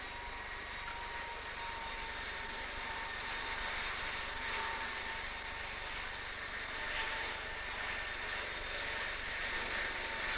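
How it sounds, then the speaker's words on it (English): A 1959–1960 Avrocar disc-shaped aircraft in its first free flight gives off a steady, loud broadband roar. A high whine stays constant beneath it for the full stretch, and no one speaks. "On November 12, the Avrocar made its first free flight."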